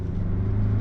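A 2022 Mazda CX-9 midsize SUV with a six-speed automatic accelerates onto a highway, heard from inside as a steady, loud low engine rumble with road noise, briefly and without talk.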